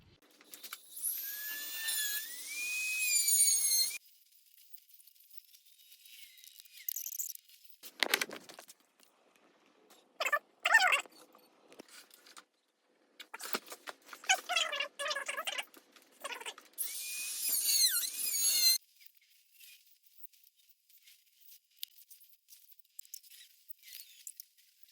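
A high-pitched grinder whines in several separate bursts as the damaged rear wheel bearing is ground out of a Harley Davidson Rocker C hub, with quiet gaps and small tool sounds between passes.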